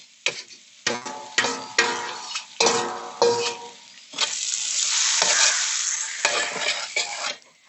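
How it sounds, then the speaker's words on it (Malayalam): Chopped tomatoes fry in a pan for mushroom chicken biryani, cooked outdoors in shade at midday; a spoon scrapes and stirs in sharp repeated strokes, then a sustained sizzle swells before more stirring, with no voices. "തക്കാളി ഇടാം, അരിഞ്ഞു വെച്ചേക്കുന്ന തക്കാളി"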